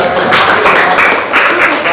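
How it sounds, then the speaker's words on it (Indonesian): A classroom of students claps loudly and steadily for a presenting group, the dense applause holding evenly for the whole stretch. "Beri tepuk tangan untuk kelompok 2."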